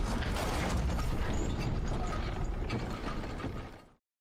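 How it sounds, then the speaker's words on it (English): An old elevator mechanism grinds along with ratcheting clicks and turning gears in a loud, steady mechanical clatter that fades out near the end, with no voices. "I would be afraid of elevators if they're like that"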